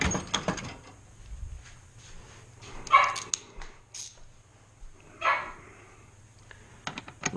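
An elderly partially blind and deaf dog barks and whimpers in a garage during work on a 2000 Nissan Maxima, giving a few short moderate yelps spaced apart over a quiet background with faint clinks.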